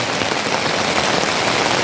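Heavy rain drums steadily on a camping tent roof in a thunderstorm, a dense, loud, unbroken patter close overhead.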